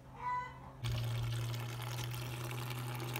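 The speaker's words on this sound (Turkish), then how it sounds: "Şimdi suyunu salıp boşaltıp antifrizli suyunu geri koyacağız" Coolant water gushes steadily from an opened drain plug on a New Holland TT55 tractor radiator, a loud continuous splashing flow that starts abruptly after a brief quieter moment and runs on without pause.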